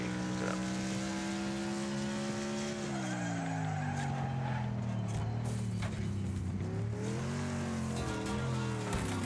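Car engine revving in Wreckfest with continuous tire squeal and skidding, the engine pitch rising and falling through the slide, loud and sustained with scraping crash noise mixed in.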